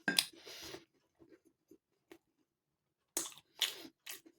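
Close crunching bites and chewing of a crunchy Sainsbury's crumpet, a few sharp crunch bursts separated by quiet pauses and soft mouth sounds.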